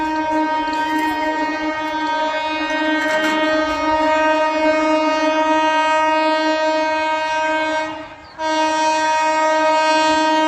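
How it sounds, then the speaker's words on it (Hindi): Vikramshila Express passenger train blaring its horn as it passes near Tundla Junction: a loud, sustained two-tone horn blast held for several seconds, briefly breaking off then resuming, over rolling rail noise. "देखते हैं कौन सी ट्रेन आ रही है।"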